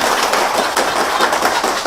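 Audience clapping at a business event, a dense, loud patter of many hands filling the whole moment without pause.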